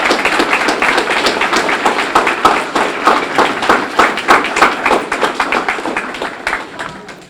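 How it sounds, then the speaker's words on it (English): Applause from an audience at a SEA LAB graduation ceremony, clearly separated rhythmic handclaps from a modest crowd, fairly close, gradually tapering toward the end. "So Noura, Nola, and Michaela, just stand one more time for a round of applause."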